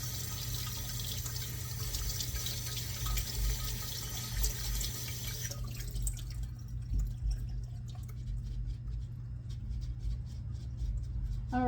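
Food being rinsed under a running kitchen tap while a grilled sea bass dish with black olive, herb and tomato vinaigrette is prepared; a steady, loud hiss of water that thins to a lighter spatter and drips.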